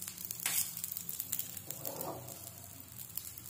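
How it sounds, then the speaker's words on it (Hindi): Masala omelette sizzling steadily in a pan as oil is poured around its edges, a close, continuous crackling fry with a brief swell of bubbling partway through. "अब हम इसमें थोड़ा सा ऑयल साइड साइड से ऐसे घुमा के डाल देंगे"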